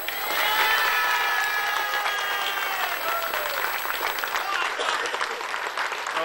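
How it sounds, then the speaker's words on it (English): Steady, dense applause from a crowd at a junior B hurling championship final, sustained clapping throughout with a few voices and whistles mixed in, filling the space for several seconds. "Could we have a round of applause for the art field team, please?"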